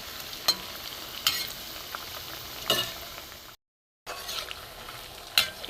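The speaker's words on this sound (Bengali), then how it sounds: "একটু লাল করে ভেজে নেব।" Rice flour snacks fry gently in oil with a soft, continuous bubbling hiss, broken by a few clinking stirs and one brief moment of silence.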